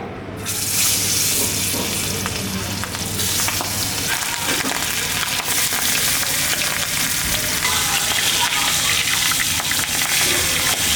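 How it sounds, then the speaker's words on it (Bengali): River catfish coated in turmeric, chili powder and salt frying in a pan give a loud, continuous hiss and sizzle, with faint stirring and bubbling underneath and no talk. "মাছ ভাজি করার জন্যে বসায় দিলাম হলো ফ্রাই প্যান।"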